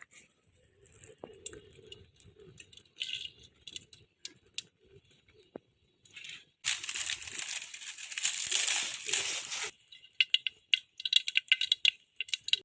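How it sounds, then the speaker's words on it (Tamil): Mustard seeds splutter in hot cooking oil: scattered small ticks and rattles build into a dense, sharp crackling burst that dies back to sporadic pops, close by and without talk. "எண்ணெய் காஞ்சிருச்சு கடுகு போட்டுக்கலாம்"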